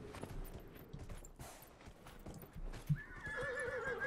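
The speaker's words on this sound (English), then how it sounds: "for a horse, I gotta say, seems like a pretty slow horse." A horse's hooves clip-clop at a steady walking pace in the video game Dragon Age: Inquisition, quiet and close, with a whinny at the end.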